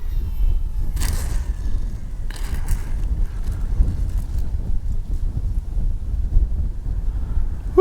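Wind buffeting a microphone outdoors at a radio-controlled model airplane flight of a Durafly 1100mm T-28, a steady low rumble throughout with a few brief hissy gusts and no talk.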